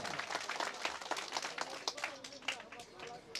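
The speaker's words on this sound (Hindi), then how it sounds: "तालियां थोड़ी बजनी चाहिए भाई, तालियां बजनी चाहिए, बहुत कम है।" An audience claps at a Kali Puja stage event in 2020, a dense, steady patter of many hands, with voices mixed in under the applause.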